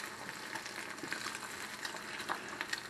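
Two eggs frying together in a pan, a soft steady sizzle with small crackles and pops, close and fairly quiet, with no voices.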